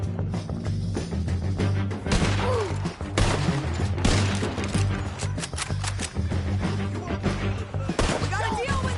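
Gunfire in Red Dead Redemption 2 during a shootout, repeated loud cracks mixed with dense game music and effects, with voices talking over much of it.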